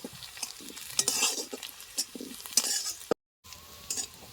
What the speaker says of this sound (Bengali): এই মশলাটা আমি ভেজে নিচ্ছি